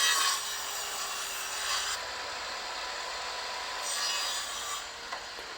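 Sharp edges being trimmed off tree branches with a hand tool, a steady scraping, rasping rub of wood that runs continuously with slight surges in strength, close and alone.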